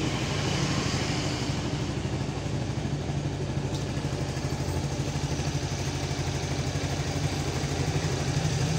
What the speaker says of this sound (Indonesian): Mesinnya halus, khas Suzuki.